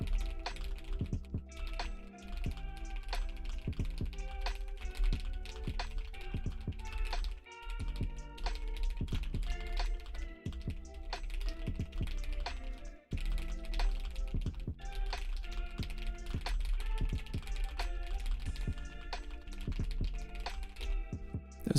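A computer keyboard clatters in a fast, continuous burst of keystrokes during a typing race, dense and steady with only brief pauses, and no voices.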